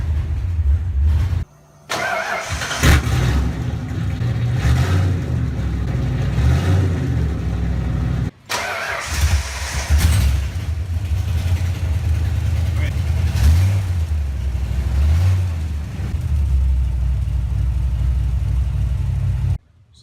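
A drift car with a custom exhaust revs up, its engine rumbling deep and loud in repeated surges with brief cut-offs between bursts, while someone talks over parts of it.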